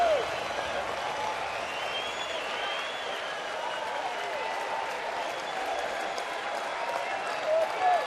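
A baseball crowd of over 20,000 in Atlanta, on its feet during a Washington at Atlanta night game, keeps up a loud, continuous roar of cheering and applause for the whole stretch.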